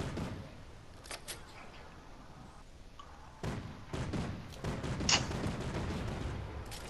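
Semi-automatic gunfire in Fortnite, a scattering of sharp single shots and bursts spread across the stretch, some close and loud, others softer, over a steady game background.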